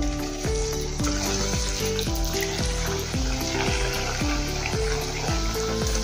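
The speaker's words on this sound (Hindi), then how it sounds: "तेल अच्छे से गर्म हो गया है, अब इस पे हम कोफ्ते डालेंगे।" Koftas fry in hot oil with a continuous close sizzle, heard beneath louder background music with a stepping melody throughout.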